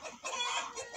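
A hen in a backyard gives a quick, close clucking call lasting about a second, in two short bursts with a slight dip between.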